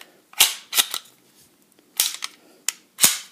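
Heckler & Koch VP9 pistol backplate being pushed into place, a handful of sharp, close mechanical clicks and snaps spread irregularly across a few seconds, with no voices.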